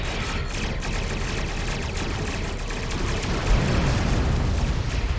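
Starship torpedoes fire and ships explode in the space combat game Star Trek Online, making a dense, continuous roar of rapid blasts and booms with a heavier impact near the end.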